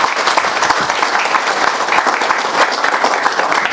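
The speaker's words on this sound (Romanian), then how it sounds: "v-aș ruga să o aplaudați dacă se poate" A hall audience at a mayor's swearing-in ceremony in Slănic Moldova gives loud, sustained applause to the new mayor's mother, many hands clapping evenly throughout.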